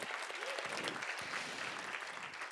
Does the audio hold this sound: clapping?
yes